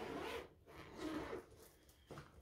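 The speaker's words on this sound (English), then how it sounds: "Some people don't like to hear the zippers." A zipper is pulled closed in a few quick rasping strokes, close by and fairly quiet, with short pauses between the pulls.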